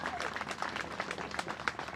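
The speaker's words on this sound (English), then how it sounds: "Let us give them a big round of applause" An audience applauds at an under-14 basketball tournament, with steady, fairly faint clapping heard from a moderate distance.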